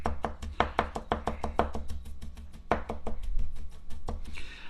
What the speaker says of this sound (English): Just mince it up as fine as you can get it